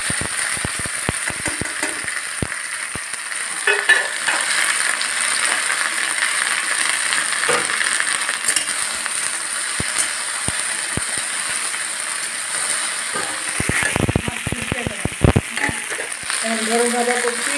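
Food fries in a hot pan in a home kitchen, a steady close sizzle with occasional clatter and stirring, while a person talks over it.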